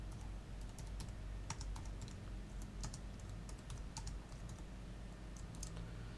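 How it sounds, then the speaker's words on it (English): Quick, irregular soft taps of typing on a Samsung Galaxy S4 phone keyboard, steady and close, over a low constant background hum with no voices. "So that's using the keyboard."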